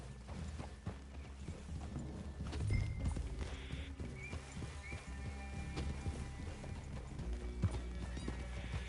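Steady clip-clop of horse hooves in the video game Red Dead Redemption 2, on a busy mixed soundscape, with a brief whinny and scattered clatter, mid-distance and fairly loud throughout.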